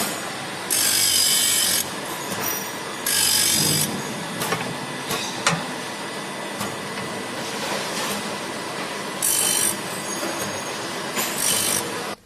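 A JN870C automatic saw blade sharpener grinding alloy cutter heads: a constant mechanical whir with repeated bursts of bright, hissing grinding every few seconds and occasional clicks, loud and close, no voices.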